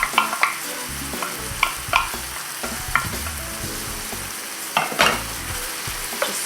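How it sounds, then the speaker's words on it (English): Celery and carrot stirred in a frying pan, a close steady sizzle with repeated scraping and knocking strokes of the spoon against the pan, and no talking. "Just stir that in, that mixes in nicely."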